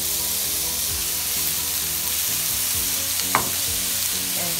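Zucchini and eggs sautéing in a pan with a steady, close sizzle of frying, broken by the occasional soft scrape or stir of a utensil.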